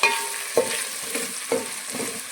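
Vegetables for a vegetable pulao sizzle in a pan with a little salt. A utensil stirs and scrapes them about once a second over a steady, close frying hiss.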